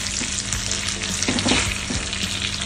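Butter simmers and sizzles in a tilted pan for a steady, close frying hiss, with a few faint clinks of the pan partway through and no talking.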